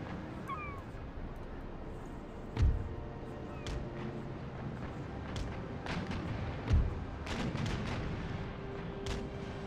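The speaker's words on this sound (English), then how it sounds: "Keep firing broadside." Warship broadside cannons in Empire Total War, two heavy booming shots a few seconds apart rising over a steady bed of distant battle noise, with faint scattered cracks and a quiet voice now and then.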